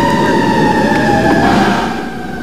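A loud fire truck siren wails steadily and close by at a mall fire at night, its sustained tone dipping slightly as it fades near the end.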